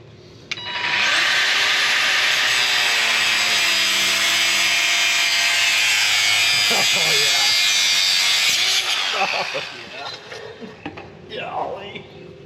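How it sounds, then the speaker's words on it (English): A power saw cuts a hydraulic hose in two on a bulldozer, making a loud, close, continuous high whine for about eight seconds before it stops, after which people talk. "we're gonna do the right thing and just cut the hose in two so they swivel"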